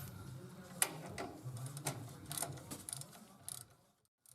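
Ford F250 brake caliper bolts are tightened with a ratchet, a quiet run of clicking pawl ticks and short bursts close by, with no talking.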